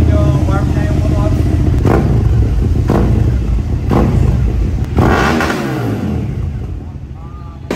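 Loud exhaust on a CFMoto SVT 650X motorcycle with a new exhaust blips repeatedly, engine warm, several sharp throttle revs rising and falling over a rumbling idle, close to the bike.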